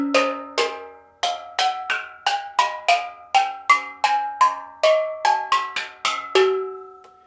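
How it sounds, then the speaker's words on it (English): Untuned steel pan fresh off the fire, struck note by note in a steady run of about twenty bright metallic hits, each clanging and decaying quickly, close and alone. "this is the way the instrument sounds just off the fire."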